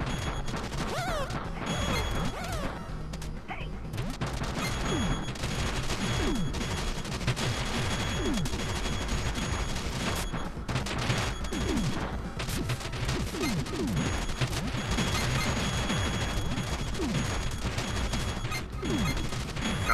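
Shotgun blasts fire again and again in the Retro City Rampage video game, a dense run of crashing shots and smashes that keeps going over a busy game soundtrack with no break.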